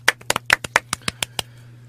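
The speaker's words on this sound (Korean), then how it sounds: "박수 한번 칠까요?" About a dozen crisp, separate handclaps at an uneven rhythm, close and fairly loud, over a steady low electrical hum, with no talking.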